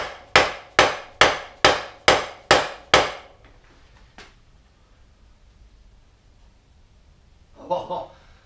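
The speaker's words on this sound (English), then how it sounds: "punch and a metal hammer" A metal hammer strikes a punch to drive out the rear axle of a 1998 KTM 250 EXC, seven sharp, evenly spaced ringing blows close up, then quiet and a brief voice.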